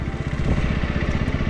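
A parked motorcycle idles at the end of a mountain bridge road, giving a steady, close, low throbbing putter with a fast, even rhythm.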